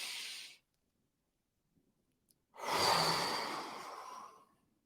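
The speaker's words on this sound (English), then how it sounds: "Deep inhale." During a breathing exercise, a person exhales briefly, then after a silent pause draws a long, deep, audible breath in close to the microphone, with no talking.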